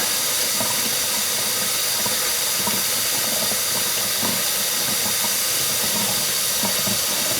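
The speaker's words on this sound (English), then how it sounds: "I'm just going to run cold water in the place of the hot water" Steady rushing hiss of cold tap water running continuously, loud and close, with no speech and a constant broadband splash.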